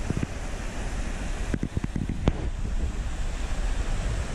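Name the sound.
running water of the Allyn River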